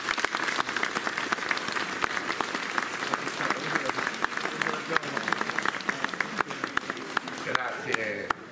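Crowd applause at a Good Friday procession in Tropea: dense, sustained clapping from many people outdoors, steady and loud, with a voice speaking over it near the end.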